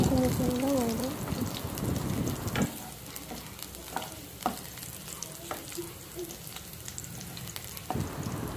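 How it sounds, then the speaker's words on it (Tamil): Pirandai (adamant creeper) stirred and frying in oil on low heat, a steady soft sizzle with scattered crackles and scraping stirs, after brief speech at the start. "கொஞ்சம் சிம்மையே வச்சு நல்லா பொறுமையாக அந்த இதை எல்லா சைடுமே நல்லா வறுபடுற மாதிரி நல்லா வறுத்து எடுத்துருவேன்"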